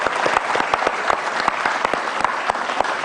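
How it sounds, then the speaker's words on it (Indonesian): An audience at a motivational talk applauds, sustained crowd clapping with sharp close claps standing out from the steady wash. "Berikan tepuk tangan untuk beliau"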